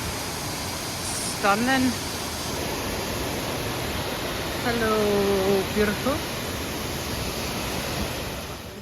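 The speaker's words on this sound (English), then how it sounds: "We just left the waterfall and now we're going up." A waterfall on a walk in the Lake District, a constant broad rushing roar filling the whole clip, with a person speaking briefly over it.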